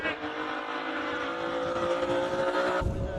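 E36 BMW race car driving at a classic car speed event in Cape Town, a steady engine drone at mid distance with a faint tire noise, ending in a sudden low rumble.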